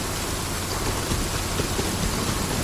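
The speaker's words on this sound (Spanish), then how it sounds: "Y ahorita está lloviendo." Rain falls in the Genshin Impact video game as a steady, even hiss with no breaks, moderately loud, and no speech.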